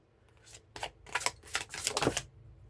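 A deck of tarot cards being shuffled by hand, a series of quick riffling bursts that grow denser and louder before stopping, close and clear with no talking.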